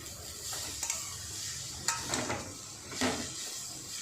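Carrots for carrot halwa fry and get stirred in a pan, giving a steady sizzle broken by a few scraping stirs of the spoon, heard close with no talking.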